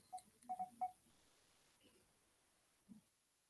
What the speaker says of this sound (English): Let me give Dennis a call. My trusty phone